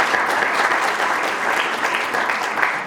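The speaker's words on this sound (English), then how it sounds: "Another round of applause for him" A round of applause for a speaker at a local government conference, an even, steady wash of clapping from a large audience lasting a few seconds, with no voices over it.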